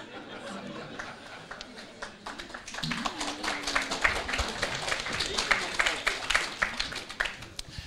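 Audience in a lecture hall on the St. Petersburg metro bursts into applause, a quiet room that swells into steady, dense clapping about midway and keeps going to the end, with faint murmurs underneath.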